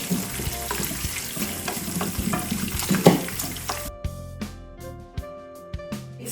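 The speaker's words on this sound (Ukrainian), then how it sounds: "ми додамо е, цибульку і порізану дрібно капусточку, яку ми посічемо так дрібненько. Так шкварчить." Close, crackling sizzle of finely chopped cabbage and onion frying in hot lard, with occasional stirring scrapes; the sizzling quiets partway through, leaving sporadic pops and clicks.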